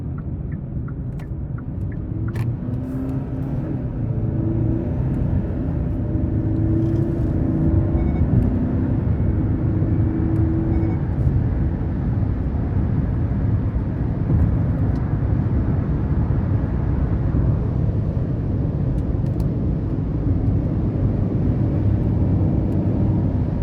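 A 2023 Hyundai Santa Cruz SEL Premium with the 2.5-litre turbo and dual-clutch gearbox in manual mode accelerates hard, its engine and road rumble swelling to a loud, steady drone heard from inside the cabin, with no talk.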